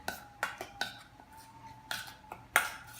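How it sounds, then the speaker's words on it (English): A spoon works through a salmon marinade in a bowl, giving a handful of sharp clinks and taps against the side at irregular moments, close by and fairly quiet, with no talking. "I'm just going to stir it up"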